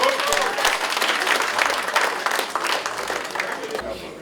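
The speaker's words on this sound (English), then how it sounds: "Give him a round of applause." A crowd applauds steadily, dense clapping filling the whole stretch at a fairly loud level, with faint voices mixed in.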